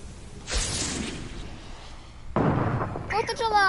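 Two booming bursts of video game fireworks go off, each trailing into a crackling hiss, before a voice starts talking at the end.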